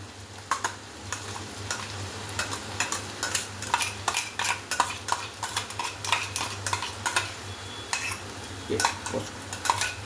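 Ginger-garlic frying in a pan with tomato and green chili paste added, for masala chicken, a continuous sizzle under quick, repeated metallic scraping and clinking stirs from a spatula against the pan.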